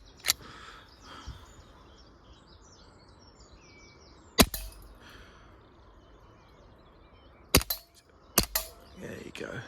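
Umarex Walther PPK CO2 air pistol fired at targets: a few sharp, isolated cracks spaced several seconds apart, with a pair close together near the end, over quiet outdoor background.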